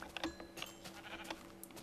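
A single Minecraft sheep gives a short nasal bleat, quiet and close, with a few faint game clicks around it.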